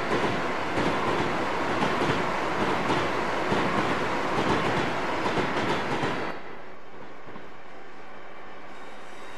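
Acela Express train in Train Simulator 2015 rolling and accelerating, steady loud rail rumble with rhythmic clickety-clack of wheels over joints, then dropping abruptly to a quieter, smoother hum for the last few seconds.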